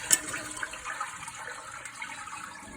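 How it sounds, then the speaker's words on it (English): A household toilet being flushed during a DIY repair, with the flap lifting in the tank: a steady rushing, gurgling water wash that starts with a brief clunk and keeps flowing at close range throughout, with no talking. "when you flush the toilet, it lifts the flap and lets the flap open"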